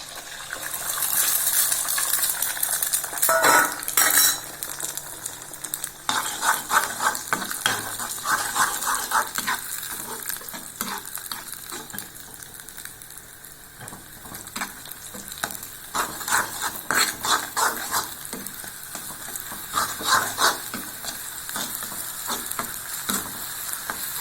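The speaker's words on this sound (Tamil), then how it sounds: "இப்போ நம்ம அந்த முட்டையை பொரிச்சிடலாங்க" An egg fries in a pan, a continuous close sizzle and crackle running the whole time, with occasional scraping and clinks of a utensil against the pan.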